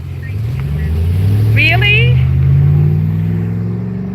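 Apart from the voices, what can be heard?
cars driving into a car show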